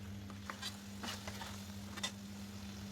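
Gucchi fish frying with ground spices in a pan, a soft steady sizzle with occasional light spatters and stirring scrapes over a low constant hum.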